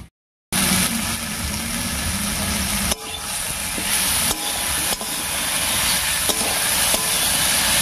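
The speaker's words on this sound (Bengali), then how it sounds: "এইদিকে চাল কুমড়োটাও ভাজা ভাজা হয়ে গেছে।" Ash gourd (chal kumro) sizzles as it fries in a pan for a vegetarian Bengali dish, a steady loud hiss with a few scraping knocks, no talking.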